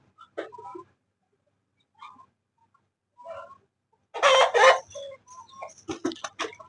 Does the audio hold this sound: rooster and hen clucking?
yes